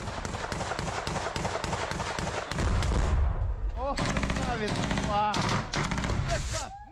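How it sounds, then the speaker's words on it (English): Short bursts of automatic gunfire during a battlefield assault in Krasnogorivka, loud and close, with rapid repeated shots in several clusters and a heavy rumbling low boom partway through, under raised voices. "We can fire a couple of short bursts to watch and double check."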